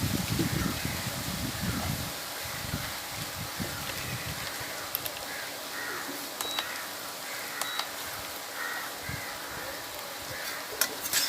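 Jackfruit seeds fry with garlic and chili powder in a pan, a steady soft sizzle with scraping, stirring strokes heavier in the first two seconds, then a quieter continuous crackle with occasional small clicks.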